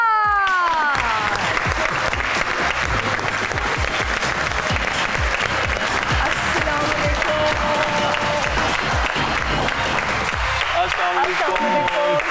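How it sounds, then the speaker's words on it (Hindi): Studio audience on a talk show applauding to welcome guests, a loud sustained burst of clapping from a crowd with a voice over it at the start and some whooping near the end. "आप सबकी तालियों में तशरीफ लाते हैं ज़ीशान रोखड़ी और दीदार।"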